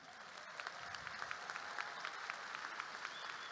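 A commencement crowd at a technical college ceremony claps steadily, soft and somewhat distant, with a few sharper individual claps standing out above the even wash of applause.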